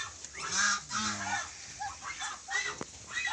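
Geese honking on a rural farm, several loud nasal honks close by in an irregular series, with quieter calls between and a brief sharp squawk near the end.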